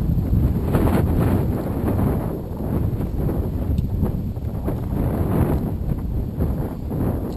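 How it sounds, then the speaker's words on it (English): Loud, steady wind roars across the microphone on a river during bass fishing on the Coosa River in Alabama, a constant dense rush with slight gusty swells and no speech. "right now this wind is really pushing"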